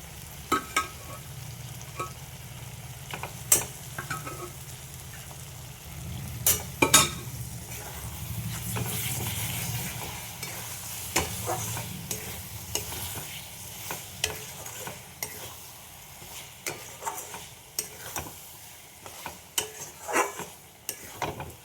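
Boiled mutton pieces sautéing in a pan, a continuous close sizzle with frequent spoon scrapes and clinks against the pan, bursts of louder stirring in the middle and steadier clatter toward the end, no voices.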